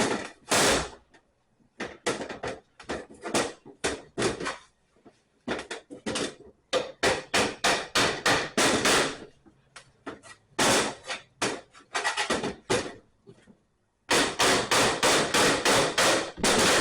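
A hammer knocks the front off an old Chevy GMC 220 amp alternator: loud, sharp metallic blows come in quick bursts and clusters, with short silent pauses between rounds of striking.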